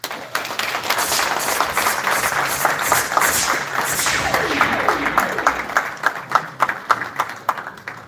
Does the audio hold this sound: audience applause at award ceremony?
yes